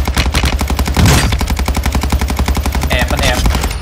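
Sustained rapid automatic gunfire from Call of Duty Warzone 2.0 gameplay, a loud, close, rhythmic burst of shots running almost unbroken, with a brief louder blast near the middle.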